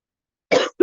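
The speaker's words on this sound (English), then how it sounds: "I'm just going to clear my throat." A single short, rough throat-clear right up close, followed by the start of a second one, after a stretch of silence.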